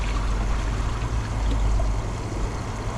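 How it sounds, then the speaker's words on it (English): A Kohler Highline Arc tall-tank toilet flushes with a press and release, a steady rushing pour of water swirling and draining close up for a few seconds with no talking. "I'm just going to do a press and release flush like I did before."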